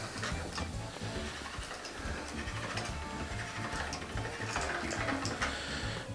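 A pasta machine set at its widest setting rolls homemade pasta dough, giving a steady, continuous mechanical whirring and rattling hum throughout, close and fairly loud with no talking.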